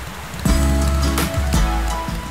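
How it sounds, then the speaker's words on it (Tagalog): Pouring rain hisses steadily outdoors where a man waits on a motorcycle, a dense wash of falling water broken by a few louder thumps and splashes. "kahit pa bumubuhos ang ulan"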